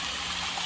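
Water pours steadily into a Red Sea 425XL reef aquarium during a leak test, making a constant close rushing, gushing wash with no pauses or voices.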